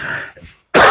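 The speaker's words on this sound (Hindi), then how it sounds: "मेरे को खांसी हो रही है।" A teacher coughs and clears his throat during a maths lesson, a short raspy throat-clearing burst, a pause, then a louder cough, all close to the microphone.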